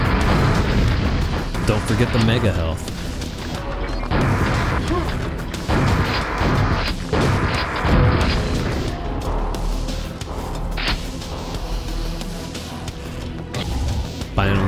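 Rocket launcher blasts from the Quake map E4M6, The Pain Maze, booming repeatedly amid dense game noise and gunfire for the whole stretch, with a voice speaking briefly over the action.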